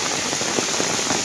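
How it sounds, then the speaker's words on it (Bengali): Heavy rain pours onto a village road by a flooded pond, a dense, loud, close patter of drops with no talk. "বৃষ্টি নামতেছে"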